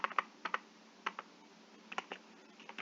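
Typing on a computer keyboard while entering a Python variable name, a handful of quiet, separate key clicks in small irregular clusters.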